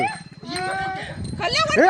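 A Rottweiler barks and yelps close by at a raised cobra, tonal cries rising sharply at the end, mixed with agitated human voices talking over it.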